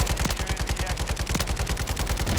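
An AK rifle fires full-auto in Call of Duty MW3 Ground War, a rapid, evenly spaced stream of loud, close shots running unbroken from start to finish.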